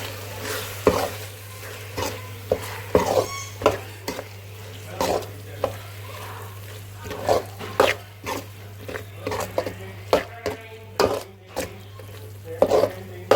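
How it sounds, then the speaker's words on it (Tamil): Prawns and chilli powder being stirred in a pan, with repeated scraping and clinking of a spoon against the pan over a steady sizzle and low hum, irregular strokes throughout. "போட்டு நல்லா கிளறி விடுங்க."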